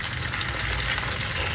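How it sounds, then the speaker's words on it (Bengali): Oil heating in a pan gives a dense, steady sizzle with a faint knock near the end, close and continuous with no speech. "এই তেলটা একটু পোড়ানো হচ্ছে"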